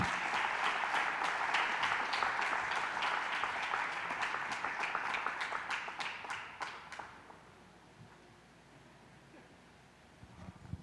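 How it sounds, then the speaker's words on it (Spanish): A church congregation gives a sustained round of applause, loud and dense for about seven seconds before fading into a quiet room with faint murmurs. "le damos a Jesús un aplauso por su vida"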